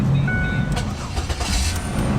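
A Ford FreeStyle with about 200,000 miles cranks and starts, a short loud burst of engine noise rising under a voice close by.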